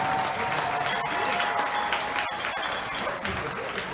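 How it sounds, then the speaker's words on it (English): Dense, steady applause and clapping from a large festival crowd cheering a high-school marching band, loud and continuous throughout with no break. "How about another round of applause for the Newcastle Red Hurricane Marching Band?"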